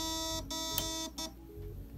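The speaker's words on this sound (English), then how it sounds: "So it'd beep twice" An airsoft gun's T238 mosfet sounds electronic beeps while being programmed, with a sustained tonal buzz broken by short clicks and gaps, close and clear.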